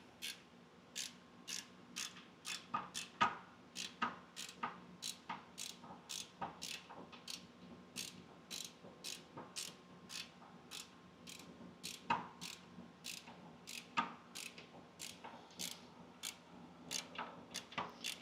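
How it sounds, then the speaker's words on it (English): A wrench ratchets steadily on long bolts, a close, regular train of crisp clicks repeating about once per second over a low background hum. "this is going to take me a second of wrenching"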